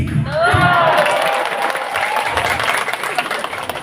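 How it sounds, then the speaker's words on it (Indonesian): A crowd at an Islamic sermon in a pesantren claps together in a burst of applause, mixed with cheering and a preacher's voice speaking over it. "Ini yang tepuk tangan Pak Bupati"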